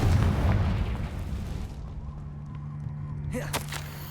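A Confringo blasting curse explodes in Hogwarts Legacy, a heavy booming burst at the start that rumbles and fades into a low hum, followed by a brief crackle near the end.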